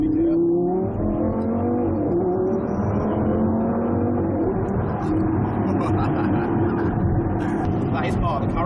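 A Lamborghini Gallardo LP570-4 Performante engine pulls hard through its gears, a loud, sustained roar with rising revs and shift changes heard from inside the car, while people talk over it.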